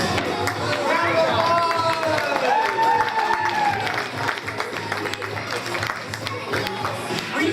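Crowd at a mall menorah lighting applauds after a yo-yo trick show, steady dense clapping with cheers and chatter mixed in, loud and close throughout.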